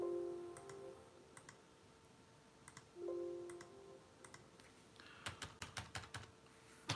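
A computer keyboard is typed on while a user ID is entered at a Remote Desktop login prompt: soft scattered keystrokes early on, then a quicker run of crisp, close clicks near the end, with no talking.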